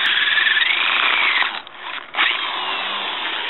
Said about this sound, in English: So now we're going to try and drill another hole from the side to match near the bottom of it